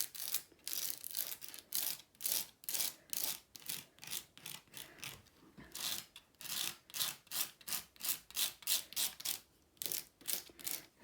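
A palette knife scrapes shimmery white embossing paste across a stencil on card, making quiet, rhythmic rasping strokes that repeat steadily, roughly two or three per second, close up with no talk.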